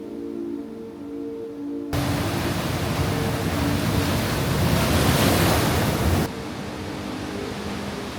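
Loud ocean waves surge and wash near a small sea cave on the coast of Eastern Samar, a broad roaring rush that swells for several seconds before easing back to a steadier surf hiss, with no voices.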